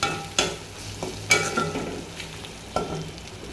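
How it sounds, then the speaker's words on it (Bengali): Spices with coriander powder and cinnamon fry in a pan for a fish roe dish, with a quiet sizzle under several sharp scraping stirs of a spatula. "ধনিয়া গুঁড়ো দেবো, দারুচিনি দিলাম, এরকম করে ভেজে নিচ্ছি।"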